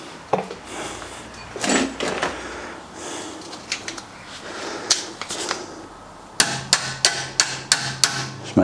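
A brake pad securing clip is tapped into place on a BMW E63/E64 6 Series front brake, with scattered light knocks followed by a quick run of about eight even, close hammer taps; no talking.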